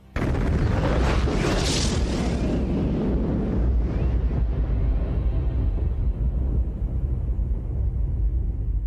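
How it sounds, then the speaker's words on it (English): A meteor exploding in the atmosphere, picked up by a surveillance microphone: a sudden loud deep boom that swells into a long rumbling roar, slowly fading over several seconds with no voices. "Remarkably, a surveillance camera and mic captured the explosion."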